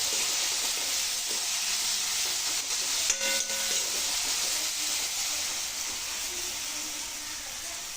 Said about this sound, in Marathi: कांदा चांगला परतून झाला आता टमाटो घातले